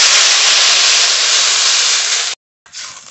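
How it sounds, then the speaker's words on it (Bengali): Water hits a pan of fried mung dal and sets off a loud, harsh steam hiss that runs steadily for over two seconds, cuts out briefly, then flares up again. "ডাল ভাজা হয়ে গেছে। এবার জল দিয়ে দেব।"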